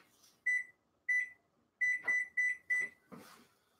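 A kitchen timer beeps in short bursts while cookies bake, six or seven bright electronic beeps in an uneven rhythm, close and clear against a quiet background.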